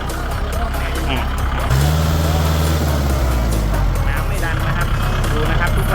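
Kubota L5018NT tractor engine runs steadily up close, with a rising hydraulic whine as the control lever is worked; someone speaks over the continuous mechanical drone.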